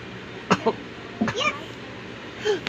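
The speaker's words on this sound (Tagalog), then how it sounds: "Inuubo talaga ako pa." A few short, sharp coughs come in separate bursts, close by, with brief quiet gaps between them.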